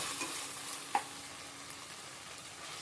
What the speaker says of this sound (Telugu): అల్లం బాగా ఎర్రగా వచ్చేదాకా వాడుకోవాలి.